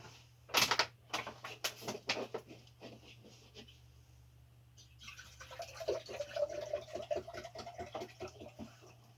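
Tap water poured over a batch of mixed electronic chips in a container, first a few sharp clattering knocks, then a steady splashing pour with irregular patters at close range.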